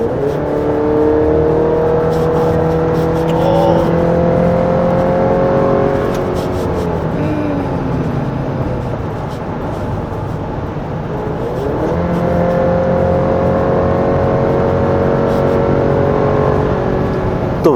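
GMC Canyon pickup with a 2.7-liter turbo engine revving as it accelerates, a close, raspy drone rising in pitch through two long pulls with a brief dip between them, heard with no talk.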